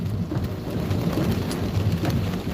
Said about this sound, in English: as soon as they hit that big line of storms just ahead of us, it's blinding sheets of rain